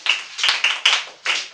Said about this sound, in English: Clap for Sanobi